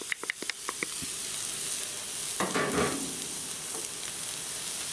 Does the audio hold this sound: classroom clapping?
no